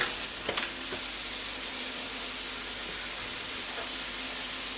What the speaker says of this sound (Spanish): Añado el calamar y sofreímos 5 minutos.